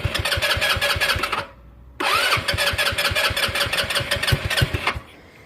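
A Honda Ruckus scooter engine cranks over with a rapid, loud starter chatter, briefly drops away, then cranks again and catches, sputtering close by before settling.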